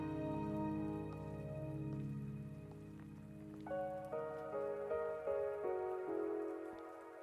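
Steady rain falls in the video game Wuthering Waves, a soft hiss beneath sustained melodic tones that shift into a new chord partway through.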